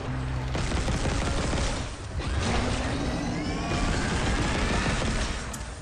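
Rapid gunfire in the video game Dead Space, dense bursts of shots and crashes running almost without pause, loud and close, with a short lull near the middle.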